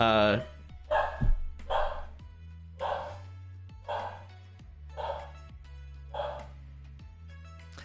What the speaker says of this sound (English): That's my dog Prim.